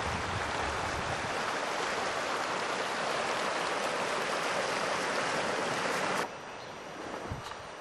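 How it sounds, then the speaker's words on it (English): A mountain stream flows on the trail to Opal Lake, a steady, close rush of water that fills most of the clip before dropping abruptly to a quieter wash. "You can probably hear the water guggling"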